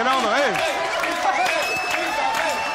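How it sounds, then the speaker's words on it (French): Studio audience at a French TV prime-time show cheers and claps for a historic Miss JJDA, a dense, continuous burst of crowd noise with a voice speaking over it at the start. "je vous demande de faire un triomphe à la Miss JJDA historique. Bah, c'est Isabelle 2. Allez, applaudissements."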